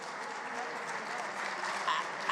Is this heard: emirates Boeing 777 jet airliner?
no